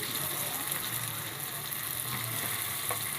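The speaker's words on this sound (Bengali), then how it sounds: "এবার কেটে রাখা অর্থাৎ ধুয়ে রাখা মাংসগুলো ওর ভিতরে ছেড়ে দেওয়া হলো" Washed pieces of desi chicken dropped into hot oil spiced with dried chili powder sizzle in a continuous, even hiss with faint crackles throughout.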